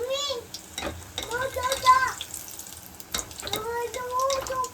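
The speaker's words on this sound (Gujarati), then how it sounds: "પહેલા થોડા તળીને લઈ લઈએ" Bhajiya fritters made with vaseti frying in a generous amount of oil, a steady bubbling sizzle running throughout, with someone speaking over it.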